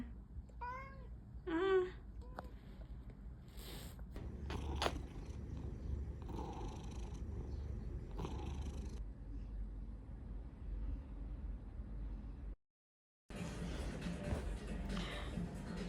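A house cat gives a few short, high meows up close near the start, then settles into a low, continuous purr with soft rustling, over a quiet room.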